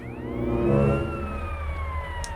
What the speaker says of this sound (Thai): เฮ้ยรถดับเพลิงว่ะ